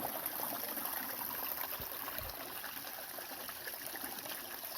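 Flowing stream water at a trailside collection spot near Lemah Meadow above Waptus Lake, a steady, fairly close rushing and trickling wash with a couple of low thumps partway through.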